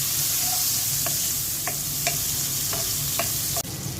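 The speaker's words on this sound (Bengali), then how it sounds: "মাছ ভাজা তেলের মধ্যে পেঁয়াজ দিয়ে দিচ্ছি" Onions frying in oil already used for frying fish give a soft, steady sizzle, with a few light clicks of a spoon stirring in the pan, fairly quiet and without talk.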